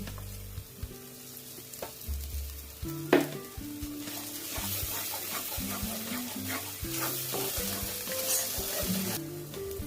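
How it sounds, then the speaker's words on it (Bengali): A paste of cashews and melon seeds goes into frying spiced masala, producing a continuous close sizzle with frequent stirring scrapes and clinks of a spoon against the pan. "পেস্ট করা কাজু বাদাম আর চালমগজ দিয়ে দিচ্ছি"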